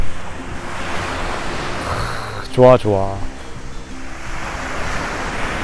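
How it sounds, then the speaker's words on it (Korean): Ocean waves wash steadily onto the shore at Uljin, Gyeongbuk, Korea, with a constant rushing surf, while a person briefly speaks over it partway through. "아 역시 파도 소리는"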